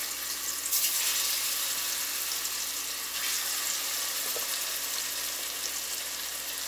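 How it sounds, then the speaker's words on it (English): Seasoned red snapper searing in a hot pan, a continuous broadband sizzle that holds steady at a moderate level, close by, with no voices. "I'm gonna sear it now"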